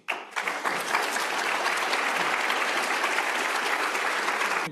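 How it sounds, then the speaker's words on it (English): A conference audience bursts into dense, sustained applause that starts abruptly and holds steady. "Another round of applause."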